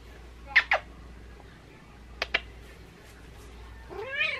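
A cat hiding under an ironing board meows loudly in two double bursts, then gives a drawn-out, wavering wail near the end; the calls are close and sharp over a quiet indoor background, with no speech.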